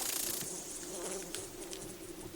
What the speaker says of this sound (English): it's hard to pick it out from the sound of the crashing rain, but every now and then, you think you hear the buzzing of insects